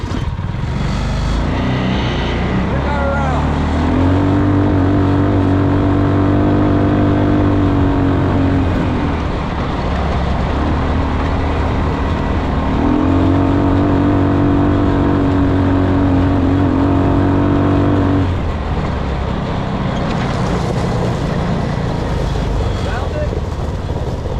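A homemade four-seater go kart with a freshly rebuilt engine, burning off old oil, runs and drives through woods: loud, close engine revving in two long sustained pulls with idling between, under occasional voices.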